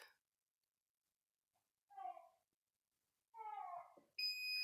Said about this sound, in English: Once it gets to the end of the timer, it's going to beep.